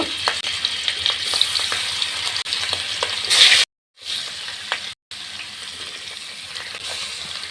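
Grass carp pieces fry in hot mustard oil in a wok, giving a dense, continuous sizzle with stirring scrapes. The sizzle breaks off twice in brief silent gaps before resuming.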